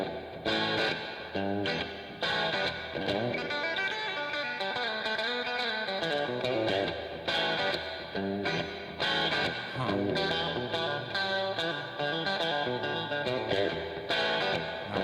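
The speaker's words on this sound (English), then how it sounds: "This solo coming to us from a very echoey place, maybe the bathroom." An early electric guitar solo plays loud and distorted with heavy echo, a continuous run of fast notes and bends over a driving band backing, with no voices.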